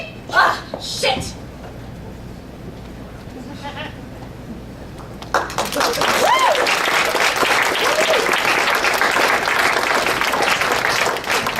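Audience applause for the performers at a live show breaks out partway through, a loud, dense and sustained wash of clapping that follows quieter, scattered sounds and voices at the start.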